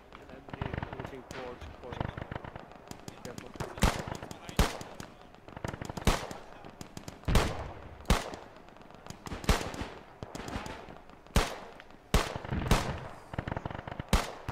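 Anti-aircraft guns in a naval video game fire in rapid, repeated bursts of sharp cracks, loud and close, with brief pauses between volleys.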